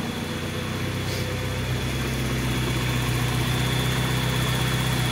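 Saab engine fitted with a DI-88 direct ignition system idling steadily in the car, a continuous low, even rumble heard close up, with no voices.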